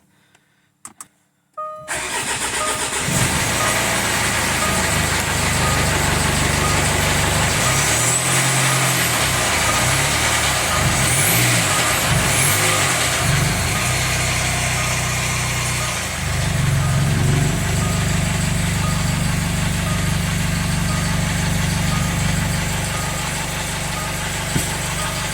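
A Jaguar F-Pace 204DTD diesel engine cranks and catches, then runs on at a steady, loud idle with a rough, uneven low-end throb close by, with no talking over it.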